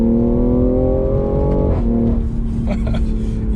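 A BMW G80 M3 accelerating hard on a straightaway, heard from inside the car as a loud, steady engine roar whose pitch climbs, drops briefly at a gear change, then keeps building.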